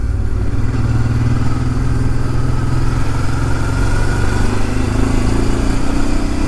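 Motorcycle riding along a motorcycle lane, a steady close engine drone with rumbling low tones and slight pitch shifts as it cruises, constant and loud with no voices.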